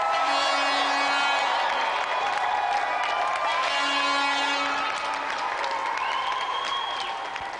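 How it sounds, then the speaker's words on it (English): Studio audience on a televised game show applauding and cheering the two competitors, a steady dense wash of clapping with a few whoops, sustained for several seconds before tapering slightly at the end. "Applause for our two brilliant competitors, Matthew and Ian Sleet"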